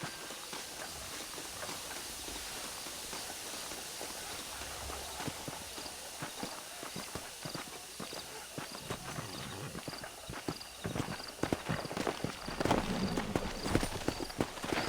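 Horse hooves clip-clop steadily in Red Dead Redemption's Mexico region of Nuevo Paraíso, a continuous faint rhythm of hoofbeats that grows slightly louder and busier toward the end.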